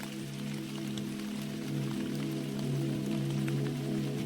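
Steady rain falls continuously, a dense even patter of drops on surfaces with a low constant hum beneath, moderately loud and unbroken, with no voices.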